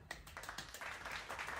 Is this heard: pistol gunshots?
no